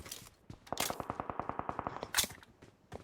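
Gunfire in the mobile battle-royale game BGMI: a rapid automatic burst of roughly fifteen sharp shots in quick, even succession, framed by a few isolated cracks before and after, fairly close and with no talking.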